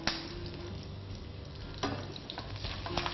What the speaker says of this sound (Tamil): ஸோ க்ரீனாக இருக்கிற கருவேப்பிலை போட்டோம்.